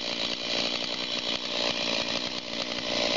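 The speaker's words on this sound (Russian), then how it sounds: "мы просто посмотрим, какие максимальные обороты в этой пиле" A STIHL chainsaw about seven years old, running with an mpg boost, revs hard at full throttle, a loud, close, buzzing engine whine held steady with slight dips, with no voices.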